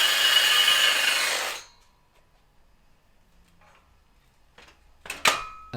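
A power tool cuts the end off a metal rod while Cobra Roadster XL seats are fitted in a van: a loud, steady buzzing burst of about a second and a half, then near silence broken by a few faint clicks and knocks.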